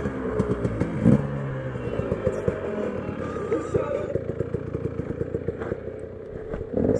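A KTM EXC 250 enduro motorcycle engine in an enduro garage revs in rapid uneven bursts, clattery and close, with no talk.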